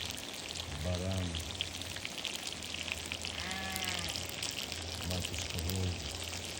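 A ram outdoors in nature gives several wavering bleats, three or four distinct calls spaced a second or two apart, moderately near over a steady crackling, rain-like hiss.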